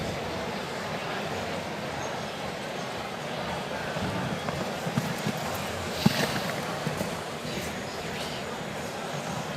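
Horse hooves thud faintly in a show jumping round at the 2019 FEI European Championships in Rotterdam, a soft rhythmic canter beneath broad arena noise, with a voice talking in the background.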